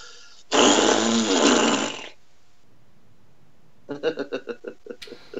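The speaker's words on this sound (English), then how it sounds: "I just need to blow my nose though" A loud, sustained blowing burst lasting over a second, followed by quiet and then a series of short rhythmic puffs close to the microphone.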